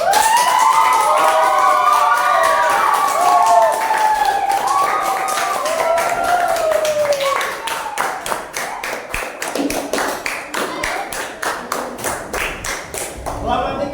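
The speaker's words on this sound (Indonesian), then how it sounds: "tepuk tangan buat kelompok 2" A classroom of students claps for a group presentation, beginning after a voice speaks and continuing as a brisk, fairly close round of many hands for several seconds.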